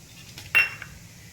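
Sifted semolina is tipped into a pan of roasted almonds, cashews and raisins for saffron halwa, giving one sharp metallic clink of utensil on cookware and then a faint scrape against a quiet kitchen background.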